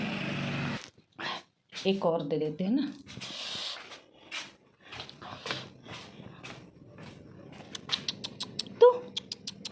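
A dog growls, whimpers and snuffles up close while being hand-fed ghee-coated food indoors at night, with bursts of chewing and patter between sounds and someone speaking Hindi throughout.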